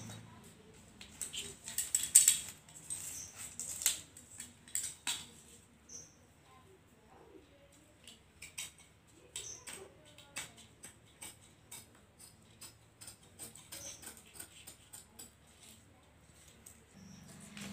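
Scissors snip through fabric while a suit is cut out by hand: soft, scattered clicks and crisp cuts, quiet and close, with pauses between bursts and a voice talking faintly in between.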